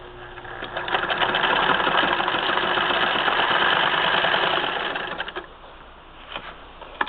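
A 1934 Singer 99 sewing machine stitches fabric in a steady, rapid mechanical whir for about five seconds, close and fairly loud, then slows and stops with a few light clicks.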